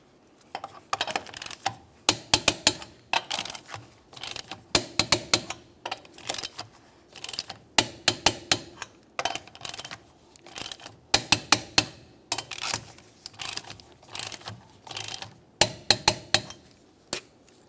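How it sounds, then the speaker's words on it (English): Torque wrench tightening lug nuts on the rear wheel of a 2006-2011 Honda Civic, working in a crisscross pattern: a long run of sharp metallic clicks and clacks in quick bursts, close and fairly loud, with no talk. "we'll continue on torquing these to 80 foot-pounds in a crisscross manner"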